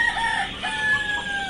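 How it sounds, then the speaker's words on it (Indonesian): A crowd of duckling chicks, seven to fourteen days old, peeps continuously at a duck hatchery, the thin, high calls overlapping in a steady, fairly close chorus with no talking. "Ui, banyaknya itik. Ini anak itik bang?"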